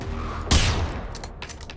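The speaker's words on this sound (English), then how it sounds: "take some pot shots at it" A single loud gunshot in the video game Generation Zero cracks out sharply, followed by a short echoing tail and a couple of faint distant pops.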